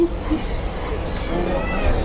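A young kitten for sale at a pet shop in Chatuchak market gives a few thin, high meows over a loud, noisy market background.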